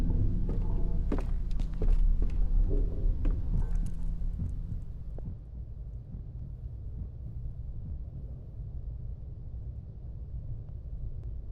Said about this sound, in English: there was a heartbeat